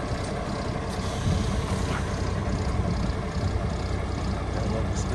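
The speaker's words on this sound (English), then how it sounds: "He's gonna fire it up. He'll give you a nice demo. Starts right up there." A 2005 Kenworth T300 truck engine idles with a steady, heavy diesel rumble, a close and constant low drone with a faint rhythmic ticking on top.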